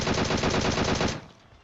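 M4 assault rifle fire in PUBG Mobile, a loud, rapid sustained burst of automatic shots lasting about a second before cutting off into a quiet tail.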